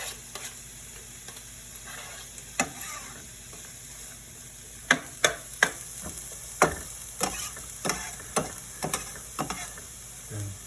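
Onions frying in a pan during a Thanksgiving cooking session, a continuous low sizzle broken by sharp utensil clacks and scrapes that come faster in the second half, close by, no voices.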